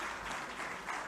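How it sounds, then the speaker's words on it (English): An audience at Reichman University applauding Prime Minister Naftali Bennett, a steady, dense wash of clapping throughout this brief moment, heard from within the hall. "a hand of applause is in order"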